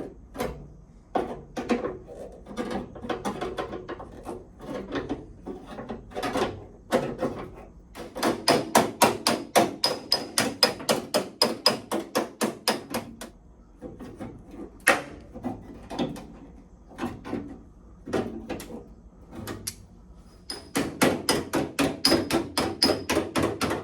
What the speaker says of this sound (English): clean this all up, and hammer and dolly it back into shape.